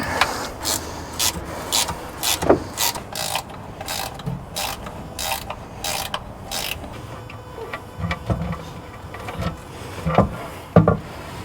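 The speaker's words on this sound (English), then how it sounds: "Now we just got to move the 4 bolts on the top." A hand ratchet spins off four top bolts during a Warn Platinum winch install, with fast, close runs of loud clicking broken by brief pauses and clanks between bolts.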